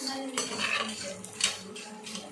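Onion and chili stirred in a pan give a busy scraping and clinking of a metal utensil against the pan, close and continuous, with a faint sizzle underneath.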